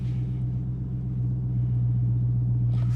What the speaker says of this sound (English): As you can hear, that Hemi doing what it does best.